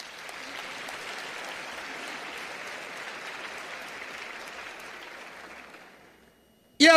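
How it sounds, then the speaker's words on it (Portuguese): Sustained applause from an audience at a solemn session of Brazil's National Congress, steady and moderately distant for about six seconds before fading out, then a brief loud burst at the very end. "Pode aplaudir que isso é de vocês."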